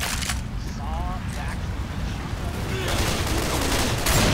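Rapid bursts of gunfire in the zombie shooter Left 4 Dead 2 crackle through a busy, noisy game mix, with shots overlapping in quick volleys and growing louder toward the end.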